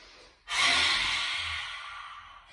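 A single long, deep breath drawn in during a children's yoga session, holding a dragon pose; it begins abruptly as a loud, airy rush close by and then slowly fades over about two seconds.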